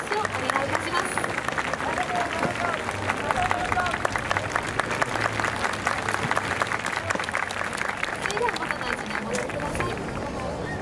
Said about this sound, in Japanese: 皆様も今一度全体の拍手をお願いいたします。